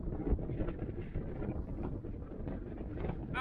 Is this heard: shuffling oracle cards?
no